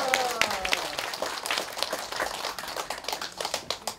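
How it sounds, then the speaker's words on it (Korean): A church congregation at Moriah Church in Korea claps to welcome a preacher, a dense burst of hand claps that continues throughout, close and fairly loud, with faint voices mixed in. "나오실 때 할렐루야 박수로 환영합니다"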